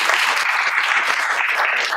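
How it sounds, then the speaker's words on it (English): Audience applause closing a public lecture by Professor Willis on mapping enslaved people's journeys from Zanzibar, a steady dense wash of many hands clapping at even loudness from start to finish. "let's give Professor Willis one more round of applause"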